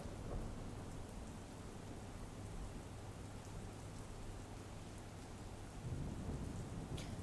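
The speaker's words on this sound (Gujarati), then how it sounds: "દ્વારકા જિલ્લાના ગુંદા ગામે ધોધમાર વરસાદ ખાબક્યો" Torrential rain pours down steadily and loudly in Gunda village, Dwarka district, Gujarat, with a low thunder rumble underneath that swells near the end; no voices.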